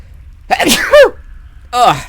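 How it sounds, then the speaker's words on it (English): A person sneezes once in a strong two-part burst, a sharp inhale-like rise then an explosive release, followed after a short pause by a brief second vocal burst, close and loud. "Oh, that was a good sneeze."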